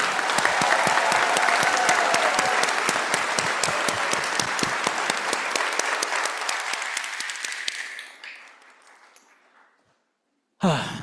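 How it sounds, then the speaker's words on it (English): A large commencement audience gives a sustained round of applause for graduates, loud and full at first, then thinning out and dying away before a voice starts. "let's give one more round of applause for a job well done"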